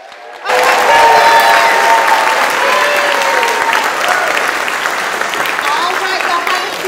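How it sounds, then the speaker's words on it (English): A church congregation at a United Methodist service bursts into loud applause after a brief pause, heavy sustained clapping with a few cheers and whoops that slowly tapers but stays strong throughout. "Can we get one more big round of applause?"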